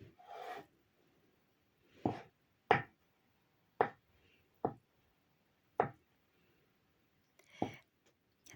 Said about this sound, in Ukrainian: Курячі яйця нарізаю кубиками.